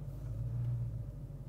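Low, steady engine rumble from a Dodge Charger Hellcat King Daytona, a deep idling burble close by that swells slightly midway, with no talk over it.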